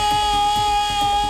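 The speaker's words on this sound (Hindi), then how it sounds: "रात के वक्त यहाँ आर्ट्स कॉलेज के पास का इलाका सायरन और अनाउंसमेंट से गूंज उठा।" An air raid siren sounds during a nighttime civil-defence mock drill for drone attacks near an arts college, giving a loud, steady wailing tone that fills the whole short stretch.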